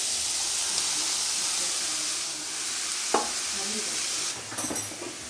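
Beetroot frying and being stirred in a pan with mustard seeds, urad dal and onion, a steady sizzle and hiss broken by occasional scraping stirs near the end.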